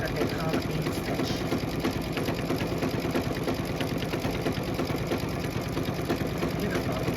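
A sewing machine stitches a double straight vein stitch on a Kimberbell pillow panel, running in a fast, even, continuous mechanical whir close by, with a voice talking faintly underneath.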